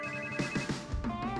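A telephone rings in brief bright electronic tones, a short close ringtone burst played alone without talk.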